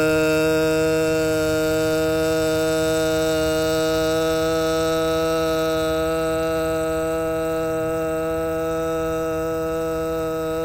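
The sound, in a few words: vocal toning of a guttural 'uh' tone for root chakra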